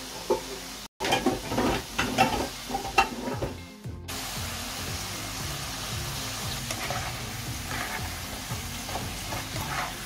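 Potato chips deep frying in oil for homemade fish and chips, a dense steady bubbling sizzle close by, preceded by a few clattering knocks and stirring sounds.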